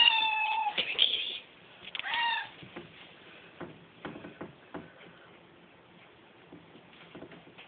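A hungry cat gives two loud, drawn-out meows up close, followed by light taps and shuffling movement with no talk.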